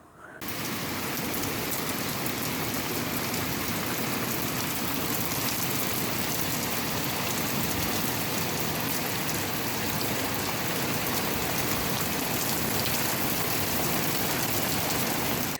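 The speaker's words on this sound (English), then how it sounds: "chucking it down with rain. In fact, this was it 5 minutes ago." Heavy rain pours down in Scotland during a stretch of gale-force weather, a loud, dense, unbroken roar of water hitting surfaces that carries on steadily from start to finish with no voices.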